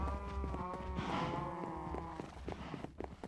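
Cows mooing inside a video game, several drawn-out bovine calls overlapping one another over a low steady background, loud and close, with no talking.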